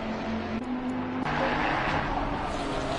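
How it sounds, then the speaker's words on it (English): Race cars lapping the Nurburgring in the ACC racing game, a steady close engine drone with gear changes and shifting pitch, loud and continuous. "So strange when you're listening to the cars, and they're obviously not as loud as Formula One cars."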